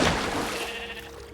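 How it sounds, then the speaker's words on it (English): A sheep in the Minecraft video game gives a single drawn-out bleat, fairly quiet over a soft background. "sheep."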